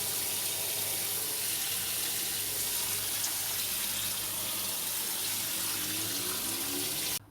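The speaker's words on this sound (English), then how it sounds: "So you just pop it on a level surface and add some water to it." Water streams steadily into a compost tray set on a level surface for bottom watering plants, a loud continuous close-up splashing and trickling that runs without a break for several seconds, with no voices.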